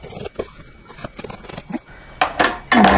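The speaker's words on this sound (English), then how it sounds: "I'm gonna fold this back completely and then trim it." Scissors trim fabric back from an appliqué petal after machine embroidery, giving a run of close, crisp snips and scrapes that build to louder, denser cutting toward the end.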